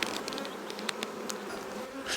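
Thousands of honey bees swarm over a hive frame, their dense buzzing a steady, close drone broken by brief higher whines and light taps.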